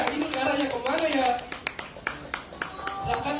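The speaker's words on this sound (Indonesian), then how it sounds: "Tepuk tangan teman-teman." Audience applause at a film cast reveal and project launch event, scattered claps rising under an announcer's voice and crowd chatter.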